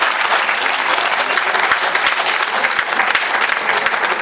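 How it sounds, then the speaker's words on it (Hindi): Loud, sustained applause from an audience welcoming a guest at a Preet Manch Noida gathering, a thick, continuous patter of many hands with a few distinct sharper claps. "तो हम तालियों से भी उनका स्वागत नहीं कर सकते"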